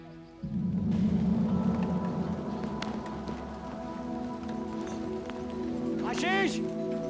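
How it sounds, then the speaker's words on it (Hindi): Rain falling steadily, a dense patter of drops on surfaces that starts abruptly and continues throughout, with voices speaking over it. "बेटा बारिश हो रही है, अंदर आओ"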